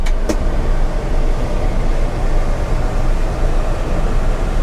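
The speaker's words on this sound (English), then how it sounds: "Let's check out the air conditioning here." Air conditioning fan in a 1985 GMC C1500 Sierra pickup blows a steady, loud, broadband rush of air that fills the cab without a break.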